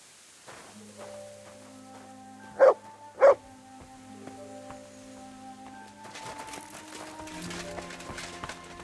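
Dog in the video game Kingdom Come: Deliverance II giving two loud, close barks in quick succession over a quiet, tonal game soundscape, with faint background sounds rising toward the end.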